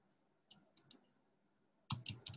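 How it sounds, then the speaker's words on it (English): Keyboard typing at a desk, a few soft scattered keystrokes followed by a louder quick cluster of clicks, close and alone without talk. "Let's type it out here"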